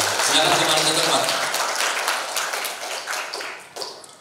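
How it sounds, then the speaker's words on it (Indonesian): Applause from an audience at an MC training session at Gontor Putri Campus 5, honoring six performers; a dense wash of clapping starts strong and gradually thins out over a few seconds. "tepuk tangan buat mereka yang sudah tampil hari ini"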